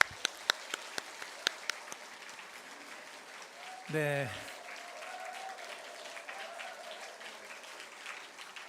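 A church congregation at a Korean Sunday service claps in welcome, a brief run of scattered handclaps at the start, followed by a short spoken word and quiet room tone.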